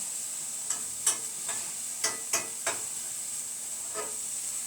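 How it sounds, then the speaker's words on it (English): Vegetables sautéing in leftover meat grease in a pan make a soft, steady sizzle and hiss, broken by several sharp pops and spatters scattered throughout, fairly quiet and close with no talking. "So now these are going to saute a little bit."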